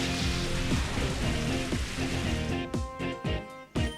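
Steady rain weather effect from the GameCube-era battle game Pokemon XD, a constant hiss of falling rain layered under the game's music, thinning out and breaking up briefly near the end, with no talking.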